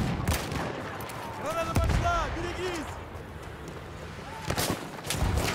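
A Perino machine gun fires in the World War I shooter Battlefield 1, with quick rattling bursts and sharp reports over busy multiplayer combat noise, along with ringing hit-marker tones in the middle.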